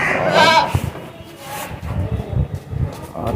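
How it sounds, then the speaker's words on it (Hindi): A goat gives one close, wavering bleat near the start, followed by rustling and muffled voices in the background. "और ये बकरा है सामने"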